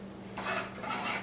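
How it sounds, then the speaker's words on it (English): Coarsely chopped pecans go into a homemade granola mix in a kitchen bowl, giving two quick dry rattling pours close to the mic over a faint steady hum. "Okay, so we're going to add our pecans now."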